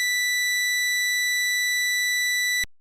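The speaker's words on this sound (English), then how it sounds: "Right, you got those quantization errors going on there" A single steady digital test tone with a bright harmonic stack, a sawtooth wave marred by quantization errors, held alone for over two seconds before cutting off abruptly.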